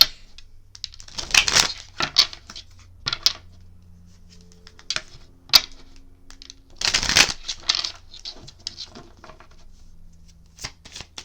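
Playing cards riffle and snap in a few quick bursts, separated by quiet pauses and soft handling clicks.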